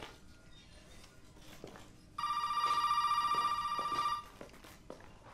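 Telephone rings in the horror video game Resident Evil 7, a steady electronic trilling tone lasting about two seconds, loud over a quiet, dark ambient background.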